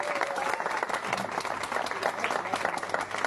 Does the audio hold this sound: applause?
yes